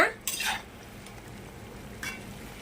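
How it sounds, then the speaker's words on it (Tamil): Chicken pieces stirred in a hot pan after dried red chillies were tempered in oil, giving two short bursts of scraping and clinking near the start and another at two seconds, over a faint steady sizzle. "கறியை போட்டு நல்லா பரட்டிட்டு இருக்கிறேன்"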